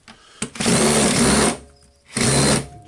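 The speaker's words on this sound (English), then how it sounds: "What we need to do now, we need to unscrew all the screws, of course." A Makita 18V DDF453 cordless drill with a PH2 bit unscrews the housing screws in two close, loud whirring bursts separated by a short pause, with no talking.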